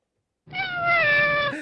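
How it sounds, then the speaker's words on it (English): A single drawn-out cat meow, close and clear, rises out of silence and holds for about a second before trailing off. "Sounds like a cat."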